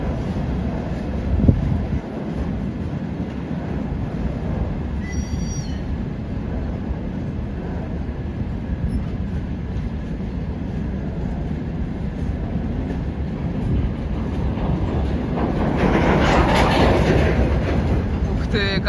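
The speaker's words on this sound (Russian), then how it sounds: "Бондаренко же или Бондарев по этим вагонам катается-то по стране, по миру." A long freight train rumbles past steadily, a continuous heavy roar with wheel clatter throughout, close by and loud.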